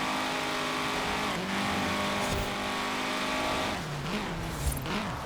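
A 1992 VW Golf GTI 16V Mark II in Forza Horizon 4 revs hard on a custom rally track, engine pitch climbing and dropping through shifts, steady and loud with no voices.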